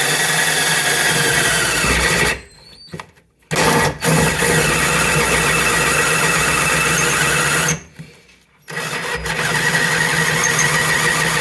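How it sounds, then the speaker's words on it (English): A power drill runs steadily and loudly, boring holes for bolt-in subframe connectors on a third-generation Camaro/Firebird, stopping twice briefly before starting again; no talking. "Alright, got my handy dandy drill."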